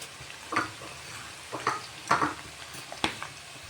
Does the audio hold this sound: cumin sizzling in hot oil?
yes